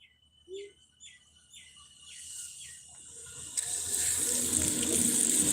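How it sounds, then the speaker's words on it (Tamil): Chirping birds sound at first, then a tap starts running and a child washes hands under the steady stream, which grows louder and fills the last couple of seconds. "கை கழுவு நல்லா கழுவு"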